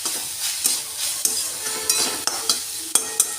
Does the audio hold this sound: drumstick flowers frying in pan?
yes